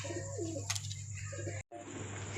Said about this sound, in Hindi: और ये देखें उड़ा हुआ कबूतर है।